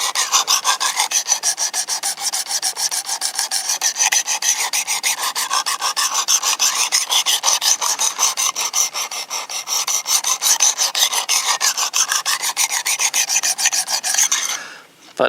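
A knife blade is stroked rapidly and repeatedly against the abrasive of a Work Sharp Precision Adjust sharpener, a steady rasping scrape close up that continues for about fifteen seconds before stopping.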